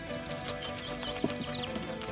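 Baby chicks chirp steadily in farm pens, a dense layer of thin, high peeps with a few louder calls standing out, close and continuous with no talking.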